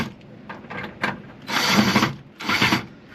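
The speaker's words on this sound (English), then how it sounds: "once I tighten them up with that drill" A power drill tightens clamps down onto wood inside a camper van kitchenette build, two short close whirring bursts with quieter fiddling sounds before them.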